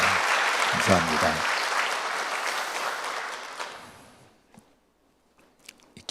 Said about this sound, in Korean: 이분들을 위해서 우리 박수하겠습니다